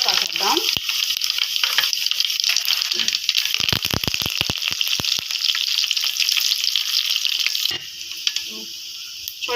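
Dried red chillies and curry leaves fry in hot oil for a lemon pickle, giving a loud, steady sizzle broken by a burst of sharp crackles and pops partway through.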